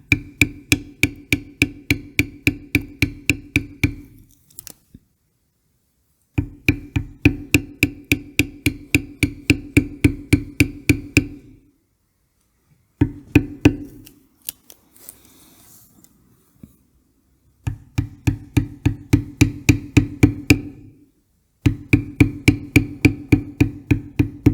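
An angled checkered beveler from Barry King is struck repeatedly with a mallet to tool small curves in leather for a feather earring, giving close, sharp, rapid taps in runs broken by short pauses.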